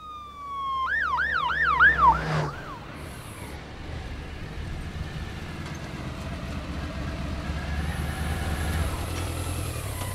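A police motorcycle siren wails in a few rising and falling sweeps close by, then cuts off abruptly after about two seconds, leaving steady road and engine rumble underneath.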